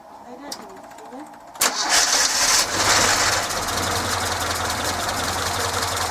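Car engine after an electric fuel pump is fitted in place of the standard one: a brief crank and catch, then a steady mid-pitched idle running close by, with someone talking over it.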